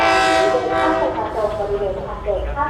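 Tourist train 911 passing through Ban Pong station, a steady rolling rumble with horn-like tonal bands throughout, heard close over a station PA announcement spoken in the background.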